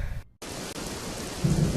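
Heavy rain pours steadily during a thunderstorm, with low rumbling thunder beneath the hiss; a short silent gap near the start, then dense, loud, continuous downpour.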